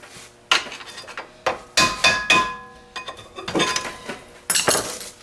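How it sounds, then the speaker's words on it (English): Sharp metallic taps and clinks, irregular and close, as a small hammer taps a tight rear brake pad out of its bracket on a 2006-2011 Honda Civic, in short clusters with brief pauses between. "possibly a small hammer to tap this rear pad out"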